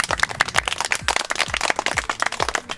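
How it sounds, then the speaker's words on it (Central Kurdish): Clapping from a small group, a quick ragged patter of hand claps that carries on steadily and fairly close throughout. "یەک چەپڵەی بەهێزی بۆ لێبەن"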